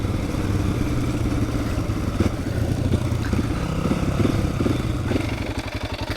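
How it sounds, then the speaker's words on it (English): A Honda XR600R motorcycle engine runs steadily and loudly with an odd noise, a constant close drone with faint clattering texture throughout, during a desert rally ride in Tunisia. "there's a bit of a noise coming out the engine"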